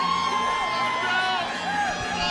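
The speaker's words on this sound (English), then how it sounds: "As the crowd making noise for Joseph Diaz Jr." Crowd noise swells at a boxing event in a casino resort arena, a loud continuous mass of cheering and shouting with whoops rising over music, close and sustained for a couple of seconds.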